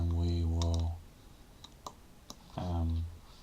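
A few sharp, isolated computer keyboard clicks spaced apart in a quiet pause between stretches of someone talking.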